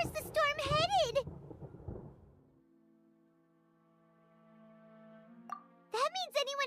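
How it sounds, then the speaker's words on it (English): Thunder rolls as a low rumble in the video game Genshin Impact, sitting beneath a high, childlike character voice before fading into a soft sustained musical tone, with more character speech at the end. "Paimon hears thunder!"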